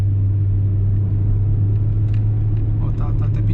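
A VW Passat B4 accelerates in third gear, heard from inside the cabin as a steady, loud low engine drone with road rumble, and a voice speaks briefly over it.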